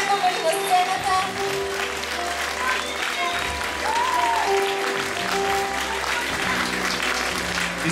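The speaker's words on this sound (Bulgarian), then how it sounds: "И сега аплодисменти." An audience claps continuously for several seconds, a full and even round of applause with faint music and voices beneath, at a ballet school's 55th anniversary stage performance.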